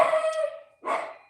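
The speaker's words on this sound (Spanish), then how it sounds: "perdón por los ladridos" A dog gives two quick barks close by, the first longer and the second short, with a brief pause between them.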